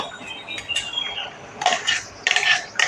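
Metal utensils clink and scrape against a vessel while coarsely ground dal is moved into a container in a home kitchen, in several short bright bursts with quiet gaps between them, no talking.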